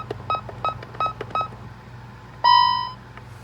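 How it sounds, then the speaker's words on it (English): An Ademco Vista 20P alarm keypad gives four short, crisp beeps as buttons are pressed to clear an alarm, then a single longer, louder confirmation tone, all close and clear with no voices. "we'll go ahead and clear it with this keypad"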